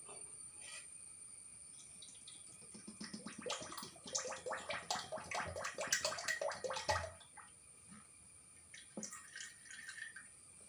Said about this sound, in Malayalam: നമുക്ക് വെളിച്ചെണ്ണ ഒഴിക്കാം